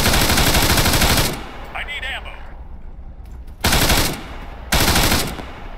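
Loud, sustained bursts of machine gun fire in the military shooter Arma 3, one long burst at the start and two more shortly after, separated by a quieter stretch with faint distant noise.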